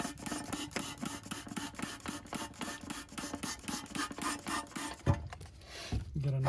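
Rubbing alcohol sloshed around inside the gas tank of a 1998 Yard Machines lawn mower, a loud rhythmic rasping swish repeating steadily for several seconds before a few clunks at the end.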